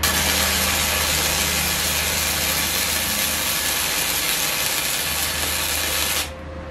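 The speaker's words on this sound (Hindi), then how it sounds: "अभी हम इसको 5 mm पे सेट करेंगे और वेल्ड करेंगे" An ESAB 200i gasless MIG welder lays a bead on 4 mm steel with a loud, continuous crackling hiss over a low electrical hum, cutting off abruptly near the end while the hum lingers.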